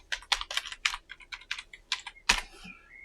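Password being typed on a computer keyboard: a quick run of about a dozen crisp, close key clicks in an uneven rhythm, ending on a louder keystroke, with no talking.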